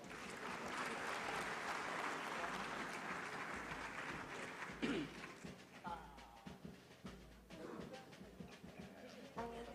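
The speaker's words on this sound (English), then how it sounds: "A warm round of applause, please." An audience at a formal trade meeting claps, a dense round of applause that thins out into scattered, fading claps by the end.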